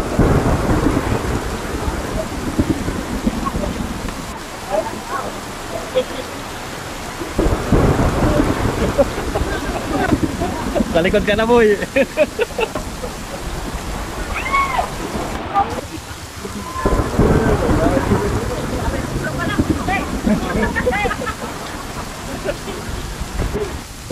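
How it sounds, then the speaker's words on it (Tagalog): Heavy rain pours steadily with rumbles of thunder at an outdoor meal in San Fabian, Pangasinan, loud and close throughout, while people talk and exclaim over it. "Habang kumakain biglang bumagsak ang ulan."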